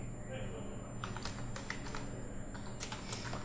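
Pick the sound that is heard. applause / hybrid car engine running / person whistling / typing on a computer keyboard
typing on a computer keyboard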